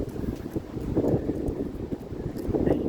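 Spring wind gusting outdoors in a residential neighborhood, a steady rumbling buffet that swells and fades in waves, loud and close like it is hitting the microphone, with no voices.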